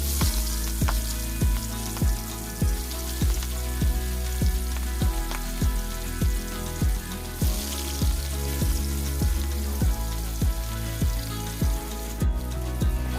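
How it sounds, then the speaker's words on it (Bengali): Fish rubbed with salt and turmeric frying in hot oil in a pan, a loud steady sizzle broken by regular crackling pops throughout, with no talking. "তেলটা ভালো হয়ে গরম হলে নুন হলুদ মাখিয়ে রাখা মাছগুলোকে ভেজে নেব।"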